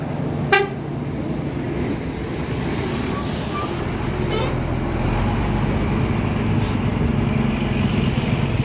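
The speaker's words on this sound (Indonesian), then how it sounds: "Ada bus pariwisata." A large tour bus rumbles past on a narrow road bend, a low engine drone under steady traffic noise, with a brief horn toot near the start.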